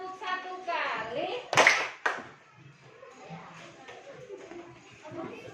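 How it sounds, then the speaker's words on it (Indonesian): A primary school classroom of fifth graders gives a single sharp group clap, preceded by children's voices and followed by quieter chatter in the room. "beri tepuk 1 kali"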